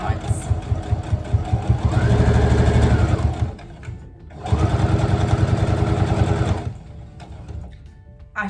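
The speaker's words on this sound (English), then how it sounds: "Lower the presser foot and just keep going top stitching around the edge, keeping that 1/4 inch seam allowance." Close, loud sewing machine running in two sustained bursts of rapid, steady needle chatter, top stitching around the edge of pleated fabric, with a pause and brief quiet between runs.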